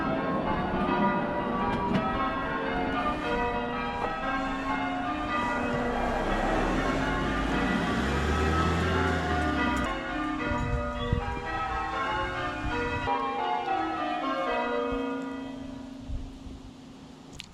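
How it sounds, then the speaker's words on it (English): Church bells ring in Bishop's Stortford in a layered, overlapping peal of many tones, fairly distant, fading toward the end. "the bells are ringing for me. They're chiming"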